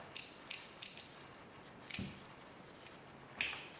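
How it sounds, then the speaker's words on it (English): Small metal clicks and a soft scrape as a spring and detent are pulled from the fire selector of a Milsig airsoft marker, a few sharp close ticks spaced over a quiet background. "take the spring out, and take the detent out."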